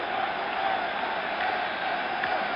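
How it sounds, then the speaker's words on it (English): A packed stadium crowd roars steadily at Yankee Stadium during Game 6 of the 1977 World Series, Dodgers against the Yankees, a continuous wash of distant cheering with a muffled, old-broadcast quality and no break. "Crowd roaring his name, roaring for the Yankees."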